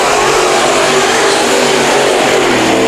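A race car engine roars during a heat race at Bakersfield Speedway, loud and continuous at high revs, with a steady dense drone and no break.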